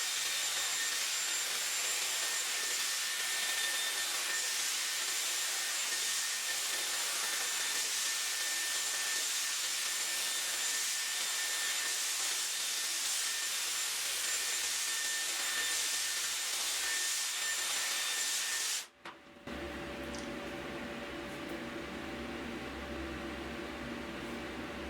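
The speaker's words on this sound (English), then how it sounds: "I'm just using all of these attachments on the highest fan setting and the highest heat setting" A Dyson Airwrap hair styler on its highest fan and heat setting blows a loud, steady whoosh for about nineteen seconds, then drops abruptly to a quieter, lower hum.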